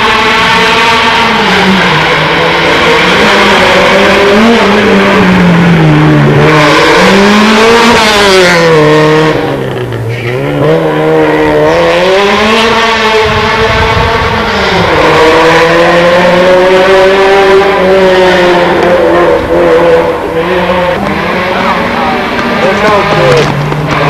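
A rally car's turbocharged engine at the 1992 Il Ciocchetto rally, loud and close, rising and falling through repeated revs and gear changes over about twenty seconds with whining harmonic sweeps.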